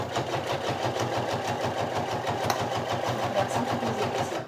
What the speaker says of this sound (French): je viens réaliser une couture au point droit ici